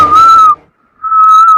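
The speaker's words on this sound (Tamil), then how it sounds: "நம்ம பின்னாடி யாரும் விசில் வச்சுட்டு வராங்க." Someone whistles a sustained tune from behind, two clear whistled phrases split by a short silence.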